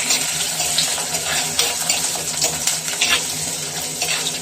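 Curry leaves and spices frying in coconut oil for a fish-head curry, a steady close crackling sizzle with a few louder pops and bursts throughout, no talking.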